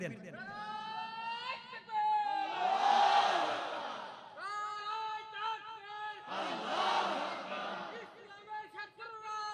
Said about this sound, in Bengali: জোরে আওয়াজ করে বলেন লিল্লাহি তাকবীর